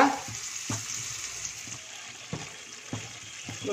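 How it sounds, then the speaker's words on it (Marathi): Cashew masala gravy for a Kolhapuri kaju curry frying in oil over a low flame, with a steady soft sizzle broken by a few distinct stirring scrapes and knocks of the spoon. "आणि आता तेल सुटेपर्यंत आपण ग्रेव्हीला परतूया"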